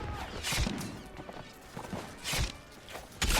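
Horse hooves in the Between Empires video game, a few heavy thudding clip-clops at irregular intervals amid a dense rumble of battle noise, fairly close.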